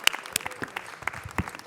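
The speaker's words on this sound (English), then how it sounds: "Let's give them all a big round of applause." Scattered clapping from a small group at a city council meeting, light and uneven, with brief crowd murmur.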